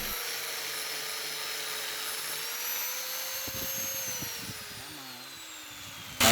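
An angle grinder fitted with a sanding disc strips rust from a knife blade, a steady high-pitched whine running continuously at close range with a slight rise and fall in pitch.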